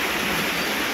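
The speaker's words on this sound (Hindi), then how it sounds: "देखो कितना बारिश, ओ माँ क्या करूँ गाइस, इतनी बारिश इतनी बारिश" Heavy monsoon rain pours down steadily outside a home gallery, a dense, continuous hiss that stays loud and even throughout with no voices.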